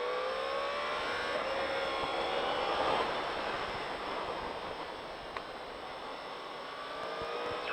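A Yamaha R1 motorcycle accelerates out of a corner on a track, a close, steady engine roar whose pitch climbs gradually, with wind rush over it and no talking.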